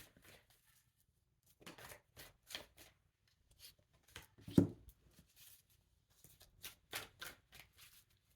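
Tarot cards are shuffled in soft, quick riffling bursts separated by short pauses. The sound is faint and close, with one sharper slap partway through.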